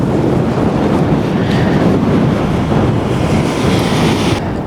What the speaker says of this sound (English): It is windy, that's for sure.